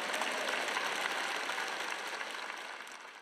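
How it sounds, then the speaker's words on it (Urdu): A congregation at a Christian sermon breaks into applause, a thick, steady wash of many clapping hands that slowly fades over a few seconds. "اور ہم اس کے لیے تالی بجاتے ہیں"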